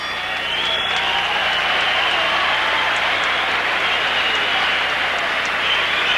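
A boxing arena crowd roars during the Prince Naseem Hamed versus Manuel Medina featherweight fight, a loud, steady wash of cheering that swells in and holds without break beneath a commentator's voice.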